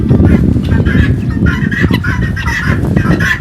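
A crowd of white guinea fowl on a farm calling and clucking continuously, a dense, busy chorus of harsh bird cries close by with no pauses.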